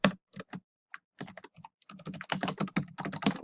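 Quick, uneven keystrokes on a computer keyboard as a short note is typed, close and crisp, with brief pauses between bursts and no talking.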